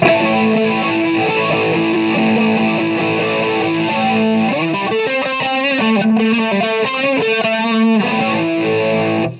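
Sustained electric guitar chords through a Fender Mustang LT 25 amp's flanger effect, sweeping and whooshing as it swirls and comb-filters the tone, loud and alone without any talking.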